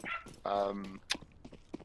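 A dog barks in the background, giving a few short yips and one drawn-out whimpering bark, faint and fairly distant, with occasional talking around it.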